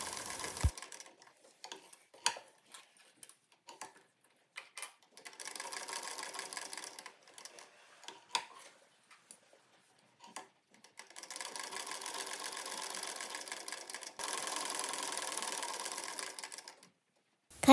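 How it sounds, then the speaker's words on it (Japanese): A sewing machine back-stitches the elastic section of a thin towel-like cloth, running in short bursts and then longer steady stretches of rapid mechanical ticking, with clicks between runs. "ゴムの部分も返し縫いをします。"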